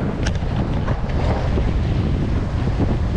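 Strong wind roars steadily across the microphone aboard a sailboat reaching across an 11-knot breeze in cold weather, a continuous loud rush with water hiss beneath and no talking.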